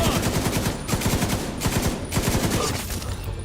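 Sustained automatic gunfire in The Division 2, loud and close, in rapid bursts of rattling shots with brief pauses between them over a dense backdrop of combat noise.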